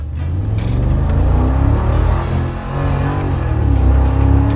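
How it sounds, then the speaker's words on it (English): A car engine revs hard with a whining supercharger, loud and close, rising and falling through a couple of surges. "Supercharger sounds so cool."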